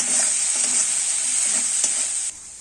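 Four green chilies drop into hot oil in a home kitchen, hissing in a steady bright sizzle while a utensil stirs through them, the frying cut off abruptly near the end, with no talking.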